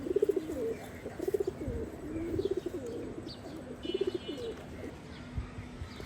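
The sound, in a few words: female pigeon cooing in a loft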